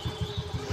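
A vehicle engine idles nearby as it sets off toward Moodbidri, a low, rhythmic chugging with regular throbbing pulses over a steady hum.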